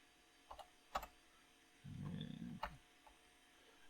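Faint, sparse key clicks come from typing a command on a Sun SPARCstation 5 keyboard, a few isolated taps in a quiet room with a brief low rumble midway.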